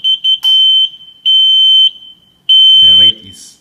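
A buzzer on an Arduino light sensor circuit sounds a series of sharp, high electronic beeps of varying length, loud and close, with a person speaking briefly near the end.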